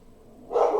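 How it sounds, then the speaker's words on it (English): A pet dog lets out a single loud bark at close range, sharp and sudden after a quiet start, while a storm unsettles her indoors. "She's got a mean bark"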